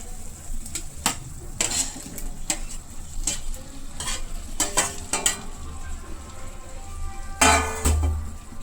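Fried potatoes tossed into hot spice masala and stir-fried for an egg potato curry: a steady sizzle punctuated by sharp spatula knocks and scrapes against the pan, close, with a louder burst near the end.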